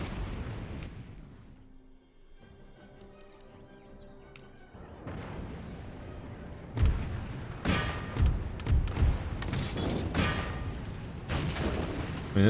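Artillery fire in the Empire: Total War video game, a series of heavy booms and thuds of varying loudness, sparse at first and then coming rapidly in the second half against a rumbling battlefield background.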